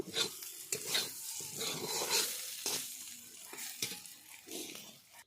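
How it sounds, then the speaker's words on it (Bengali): Beetroot being stirred as it fries in a pan at home, with a soft continuous sizzle and repeated scraping strokes of a spatula against the pan, close and fairly quiet, with no talking. "এভাবে করে কিছুক্ষণ ধরে নাড়াচাড়া করলে বিট ভাজা রেডি"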